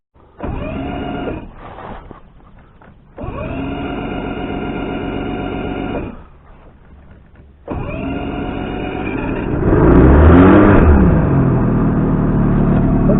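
Vehicle engine with a hard-start problem idling, then revving as it is put in gear and pulls away; steady close drone in bursts with short gaps, the final stretch louder and rising.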